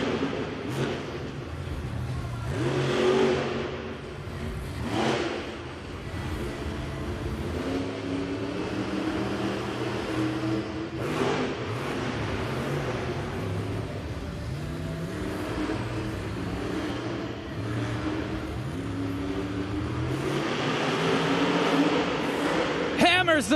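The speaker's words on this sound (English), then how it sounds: "There's the throttle." A monster truck engine at a Monster Jam stadium event in San Antonio roars and revs hard, droning loudly and continuously while an announcer talks over it.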